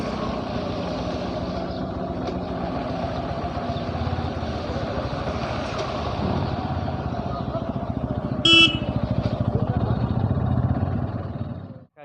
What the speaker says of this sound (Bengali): দেখো আমার এখানে বাইক আছে আর পিছনের মধ্যে একটা সুপার গাড়ি গাড়ি আসছে দেখো সেই আওয়াজ লাগছে